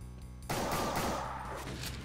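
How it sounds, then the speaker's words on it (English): Rocket volley explosions in Brutal Doom, a dense burst of blasts arriving together after a brief quiet stretch, loud and close, with the roar sustained and slowly tapering. "He does this four rocket volley"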